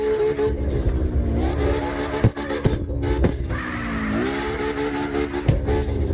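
Drifting car in CarX Drift Racing Online, its engine holding a steady droning rev with pitch that rises and dips as the throttle swings, plus brief sharp bursts, loud and continuous throughout.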